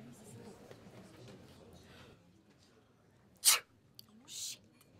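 Soft talking gives way to a single sharp, loud sneeze, followed by a brief breathy sniff.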